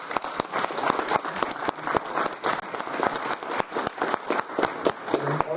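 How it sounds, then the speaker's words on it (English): An audience at an electronics design conference opening session claps, with sharp individual claps standing out in a lively, sustained round of applause. "Big applause, please,"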